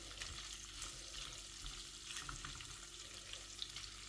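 Paneer frying in a pan, a steady low sizzle with faint clinks of stirring and turning, close and fairly quiet, with no talk.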